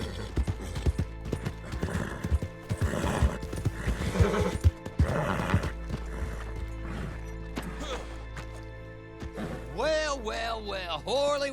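A horse whinnies in the video game Red Dead Online, a rising and falling neigh near the end that follows clip-clopping hooves and mixed game sounds, with a voice at times underneath.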